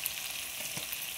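Mint leaves fry in a pan while making a crab fry, giving a soft, even sizzle at low volume throughout the brief moment, with no talking.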